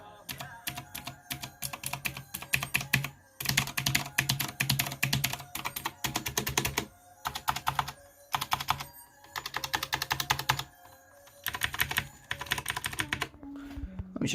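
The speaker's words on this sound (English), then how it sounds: "The keyboard is using some variant of Cherry MX Blues." Rapid clicky typing on an Aula SI-2018 mechanical keyboard with Cherry MX Blue-type switches, in bursts with brief pauses, close and crisp. Each keystroke snaps sharply.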